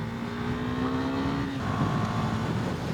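A Husqvarna Vitpilen 401 motorcycle rides at highway speed around 110 km/h, a steady engine drone with a clear humming tone and a rushing wind roar, close and continuous.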